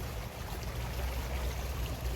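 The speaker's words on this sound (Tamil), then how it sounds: "அது அருமையான ஒரு தண்ணி இங்கே வந்து சேருது." Water flows steadily into a mangrove area beside a boardwalk, a continuous soft rushing wash with a low rumble, close by and unbroken with no voices.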